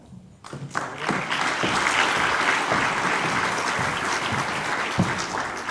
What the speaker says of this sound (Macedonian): Ве молам уште еден аплауз за Весна